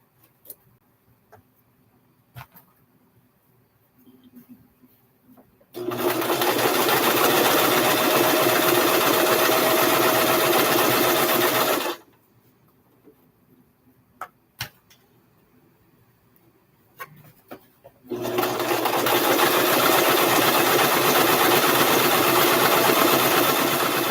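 A sewing machine stitching fabric for an 18-inch doll dress runs in two long fast bursts of steady whirring stitching, separated by quiet pauses with faint clicks and handling noises.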